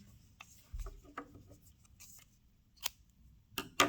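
Scissors cut paper strips for Celtic knot art, giving a few sharp, close snips, mostly near the end, in an otherwise quiet room with no talking.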